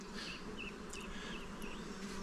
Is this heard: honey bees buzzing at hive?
yes